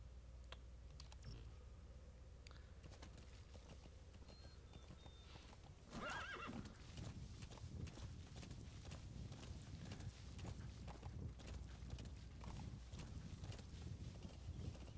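A horse moves in the Metal Gear Solid V video game, with steady clip-clop hoofbeats and a neigh over a constant game background, while keyboard clicks sound throughout.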